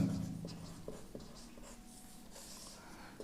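A pen or chalk writes on a board during a physics lecture on photoelectric-effect numericals, making soft scratchy strokes and taps in short bursts, close and fairly faint, with no speech.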